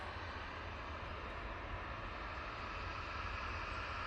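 A Ryanair jet departing for Palma de Mallorca, a steady faint engine roar with broad hissing noise, continuous and distant with no talk.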